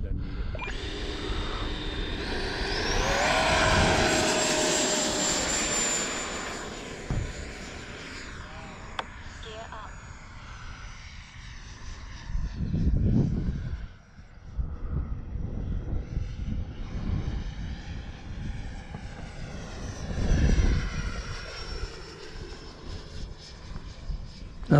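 A 90mm Viper radio-controlled model jet flies past at half throttle, its turbine whine rising and falling with Doppler sweeps as it comes near and moves away, with voices now and then over the engine.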